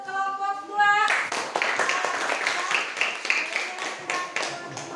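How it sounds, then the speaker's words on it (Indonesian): A classroom crowd breaks into a burst of clapping for group 2 after their presentation in a teacher-training lesson. Many hands clap together fairly close by, following a brief voiced sound at the start. "Aplaus untuk kelompok 2."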